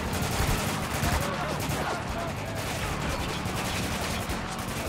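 Weapon fire in Spec Ops: The Line, a steady stream of rapid shots forming a dense, continuous rattle, fairly loud and constant throughout, with faint voices mixed in.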